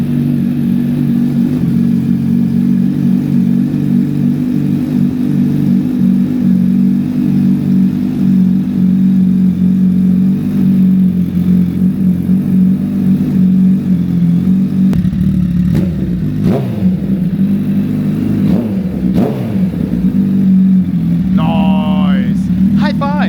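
A 2023 Suzuki Hayabusa fitted with Brock's cams idles loudly with a steady rumble, then blips through several sharp revs near the end while people talk in the background.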